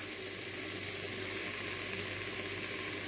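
Veal pieces browning in a pan for blanquette de veau, giving a steady, even frying sizzle that holds close and constant throughout with no talking.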